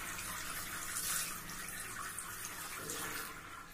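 Plain water is poured over cooked pasta for a vegetable pasta dish, making a continuous close gushing splash that runs steadily for a few seconds with no talking.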